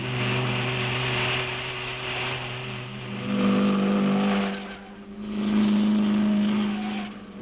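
A race car's engine drones steadily while its wheels spin, swelling twice into louder, higher revving surges before easing back, with no voices.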